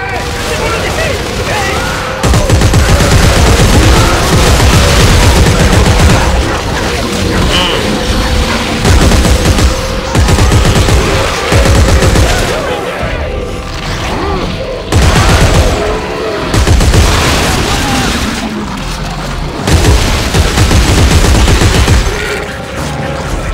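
Sustained gunfire and heavy booms in the video game Dead Space 3, loud and continuous in repeated bursts, with voices shouting over it.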